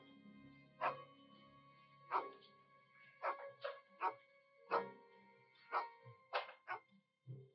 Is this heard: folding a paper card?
no